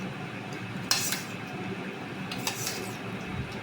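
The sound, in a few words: serving bitter gourd dal into a bowl, dishes clinking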